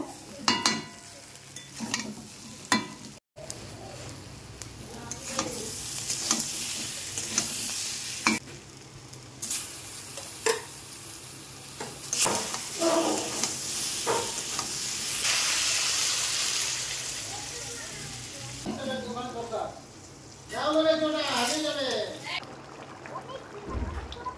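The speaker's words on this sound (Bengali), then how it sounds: "পটল আলু ঢেলে দিয়েছি মশলার ভিতরে, এখন এটাকে আরেকটুখানি কষে নেব।" Pointed gourd and potatoes frying in spice paste in a pan, with a sizzling hiss and stirring scrapes that rise and fall while someone talks at intervals.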